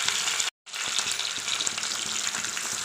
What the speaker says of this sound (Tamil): இஞ்சி பூண்டு பேஸ்ட் சேர்த்துட்டு நல்லா வதக்கிப்போம்